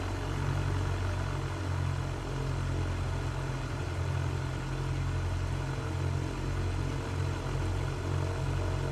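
A Cessna 172 Skyhawk piston engine in the flight simulator MSFS 2024 drones steadily throughout, a deep, even rumble with a constant low hum and no voices.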